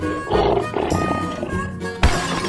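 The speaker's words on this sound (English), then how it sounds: "Lion." A lion roars in a loud, rough burst lasting about two seconds, then a sharp thump or new roar begins near the end; a game-style guessing sequence of animal sounds, no talking.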